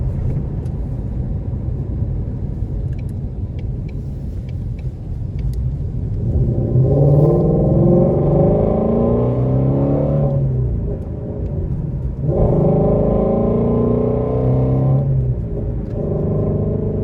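A 2019 Shelby GT350 in sport driving and exhaust mode, a loud close engine idle rumble that swells into two long revving surges with rising harmonic sweeps, easing back to idle between them, no talking.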